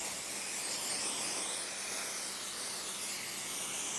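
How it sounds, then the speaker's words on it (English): Silicone spray hisses in one continuous, steady burst onto a motorcycle tire during a tire change on a Yamaha Tenere T7, a close, even white-noise spray with no talking. "I've decided to use silicone spray."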